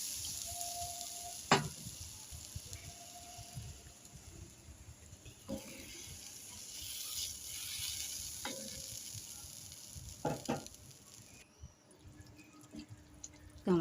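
Fish curry with potatoes simmering in a pot, a steady low bubbling and sizzle with occasional sharp clinks and stirring knocks, close and fairly quiet with no talking.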